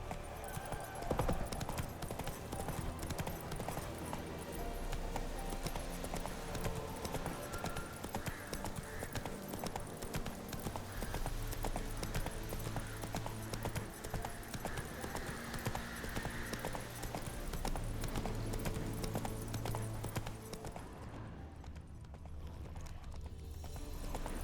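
Roach, Geralt's horse in The Witcher 3 on PS5, gallops with a steady rapid drumming of hooves over game music and ambience, continuing for a long stretch before trailing off near the end.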